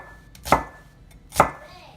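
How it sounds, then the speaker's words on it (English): A chef's knife rough-chops an onion into chunks on a cutting board. Two loud, close, evenly spaced chops land about a second apart, and no voices are heard. "It's just going to be a rough chop here, so I'm just going to cut down this way and make some nice chunks."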